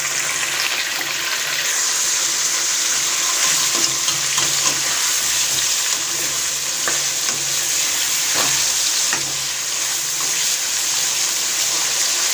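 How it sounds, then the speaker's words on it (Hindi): Chicken pieces frying in a pan over a medium-low flame give a steady, loud, close sizzle that holds without a break, with faint scraping now and then and no talk. "5 से 6 मिनट हम चिकन को अच्छी तरह फ्राई कर लेंगे"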